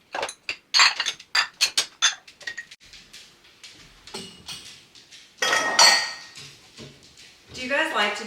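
Dishes, pots, air fryer racks and cutlery clatter and clink in a sink, with loud, close, irregular bursts of metal and glass knocking, scraping and running water.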